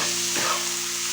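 Bottle gourd with a pinch of sugar frying in a pan ahead of poppy seed paste, a close, bright sizzle with a quick stir of the spoon partway through, steady and loud.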